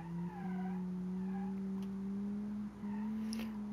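A sensible offroader SUV in the Automation car-building game drives around a test track, its engine droning in a steady, slowly rising tone with brief gear-change dips and faint tire noise, fairly quiet and with no talk.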